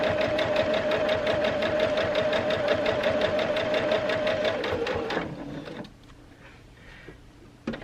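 A sewing machine stitches close along the edge of a fabric card and wallet holder, a steady loud whirring run for about five seconds before it stops, leaving quieter handling sounds at the end.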